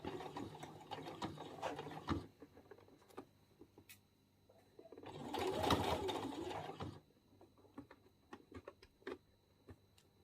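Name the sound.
sewing machine stitching a dress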